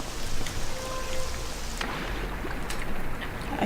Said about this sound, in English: And it's still raining, by the way.